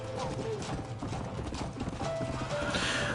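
Horse hooves clip-clop steadily in Red Dead Redemption as a stolen horse is ridden, with a whinny and game ambience mixed underneath and rhythmic, close hoofbeats throughout.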